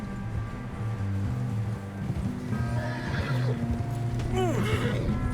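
A horse whinnies loudly with a rising and falling neigh in the video game Red Dead Redemption 2, alongside hoof clip-clops and a steady low musical drone.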